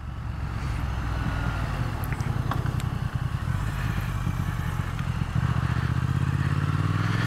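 A 2021 Triumph Thruxton RS parallel-twin engine on a stock exhaust with a large catalytic converter runs steadily close by, a low, continuous burble with a slight rise in pitch near the end.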